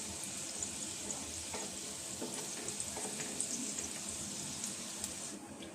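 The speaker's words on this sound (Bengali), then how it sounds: "দুটো সাইড ভালো করে ভেজে নেব।" Small pan of Bengali afternoon snack pieces frying in hot oil, a steady close sizzle and crackle running throughout with light scraping as pieces are turned, no talking.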